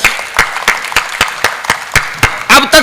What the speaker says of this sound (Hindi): मैं चाहता हूं उनके सम्मान में एक बार जोरदार तालियां बजाए।